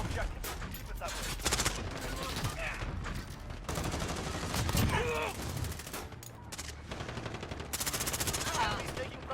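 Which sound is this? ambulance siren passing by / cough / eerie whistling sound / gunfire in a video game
gunfire in a video game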